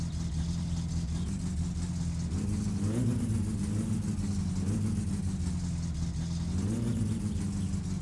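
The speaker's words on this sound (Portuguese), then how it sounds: "Dá uma esquentada aqui no carro primeiro." A car engine in the My Summer Car video game, fitted with a new turbo, runs steadily as it warms up, with a low continuous drone that rises in a few gentle revs, close and fairly loud throughout.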